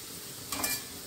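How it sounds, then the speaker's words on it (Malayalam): Vegetables sautéing in coconut oil, a faint steady sizzle with one brief stirring scrape midway through the short moment. "ഇത്തിരി വെളിച്ചെണ്ണ ഒഴിച്ചിട്ട് ഇതെല്ലാം ഒന്ന് വഴറ്റിയെടുക്കുകയാണ് കേട്ടോ"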